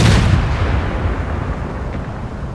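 48-pounder stern cannons on a warship in the Total War Empire II strategy game fire as a heavy booming blast that rolls into a long, loud, rumbling decay.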